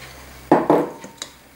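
Spoon scraping through melted chocolate mixed with praline in a bowl, two thick, near scrapes followed by a lighter tap, with no talking.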